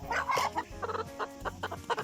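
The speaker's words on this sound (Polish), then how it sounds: "tutaj mamy kolejnego młodego koguta" A young rooster clucks in a quick series of close, moderately loud calls with short gaps, sounding alone with no voices over it.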